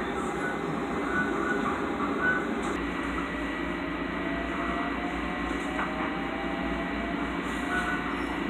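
Long Island Rail Road train to Ronkonkoma moving slowly, heard from inside as a steady low rumble with faint squeals and rattles throughout.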